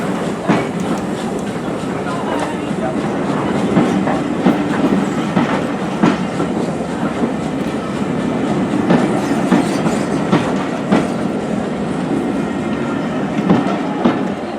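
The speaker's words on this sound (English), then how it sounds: "The last train leaves for Tenderton" A train on a heritage railway at Bodiam rumbles past steadily, with rhythmic clickety-clack of wheels over rail joints throughout, fairly close and continuous.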